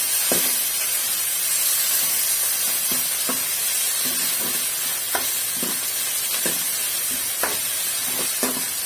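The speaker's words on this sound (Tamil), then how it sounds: "ஒரு தக்காளியை கட் பண்ணி இல்லை வதக்கிக்கிறேன்" Chopped tomato sautéing in a pan for sundakkai sambar, a steady close sizzle with a hiss running throughout, broken by repeated short scraping knocks of a spoon stirring.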